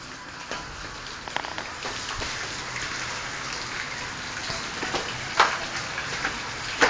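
Steady rain pours outdoors in a village setting, a dense even hiss with occasional louder splashes and drips near the end, no voices over it.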